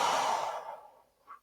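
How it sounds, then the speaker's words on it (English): One slow, deep exhale, close and soft, tapering into silence before a faint catch of breath at the end. "slow, deep breaths."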